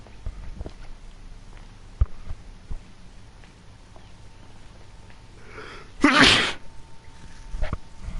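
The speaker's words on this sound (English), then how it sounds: "Sneezing today." One loud, close sneeze bursts out about two-thirds of the way through, after a stretch of quiet shuffling and small thumps, and a few faint taps follow it.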